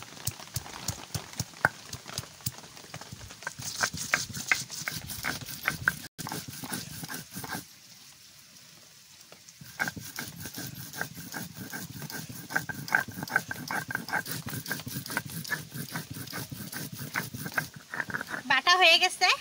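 Two chillies, black pepper, coriander and cumin are ground together into a paste in close, rhythmic knocking and scraping strokes, with a short pause midway before the grinding resumes.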